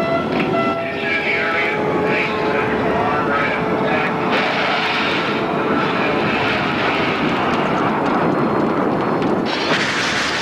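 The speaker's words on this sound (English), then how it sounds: "Hundreds of fighter jets and bombers take part in an all-out effort to destroy NATO's air force" Soviet fighter jets and bombers roar overhead during a massive airstrike on NATO airfields in a war film, a loud continuous engine rumble with rising jet whine, dense and sustained throughout.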